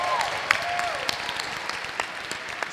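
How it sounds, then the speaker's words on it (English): A university freshman convocation audience applauds in a large hall, a steady wash of clapping at moderate level with a faint tonal sweep and a few sharper claps standing out. "Please give a round of applause to Dr."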